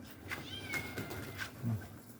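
A kitten meows a few times close by, short plaintive calls with a louder one near the end, over a soft background.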